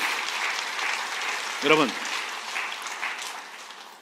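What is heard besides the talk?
audience applause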